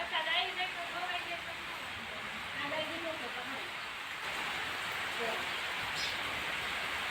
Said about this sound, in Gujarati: વરસાદ જો ઝરમર હતો ને, થોડો વધી ગયો છે.